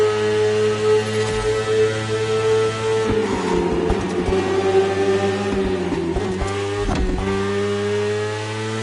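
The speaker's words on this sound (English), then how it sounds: "The one you're riding is the S1000RR. It's what we call a superbike." A BMW S1000RR superbike engine in The Crew Motorfest racing game gives a loud, steady high-revving drone with clear harmonics, dipping and shifting pitch through the middle as the bike changes gear, with no voices.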